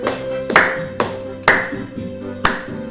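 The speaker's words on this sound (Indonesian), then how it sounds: "Kita tepuk tangan." Slow, rhythmic hand claps at a church gathering, several sharp claps spaced about half a second apart, resonant against a sustained musical tone.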